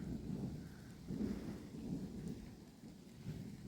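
Rolling thunder during a rainstorm over a garden plot, low muffled rumbles swelling in several waves under a faint hiss of rain, distant and soft throughout.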